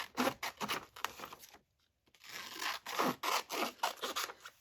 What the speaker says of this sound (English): Okay, so I'll cut these out.